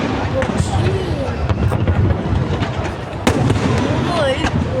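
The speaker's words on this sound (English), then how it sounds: "That's how many are the fireworks." Fireworks burst repeatedly around an outdoor celebration, a scattered run of sharp pops and cracks over a constant background crackle, with people talking and exclaiming over them.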